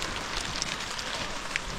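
Rain falling outdoors in Vietnam, a steady hissing patter of drops on surfaces with occasional sharper drips, constant and fairly close throughout with no talk.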